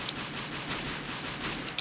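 Pistol fire rings out in a Counter-Strike: Global Offensive deathmatch as a dense, steady rattle of rapid shots, loud and close, with no voices over it.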